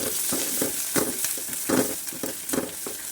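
Sambar masala, ginger garlic paste and curry leaves being stirred in a hot pan, a continuous close sizzle broken by regular scraping strokes about twice a second, with no talking.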